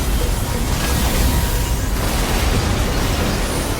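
An explosion in a video game makes a loud, dense, continuous roar and rumble that fills the whole stretch, steady and heavy with low-end weight and no break or voice.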